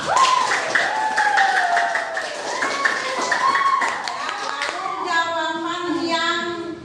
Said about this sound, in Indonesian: tepuk tangan buat Salwa.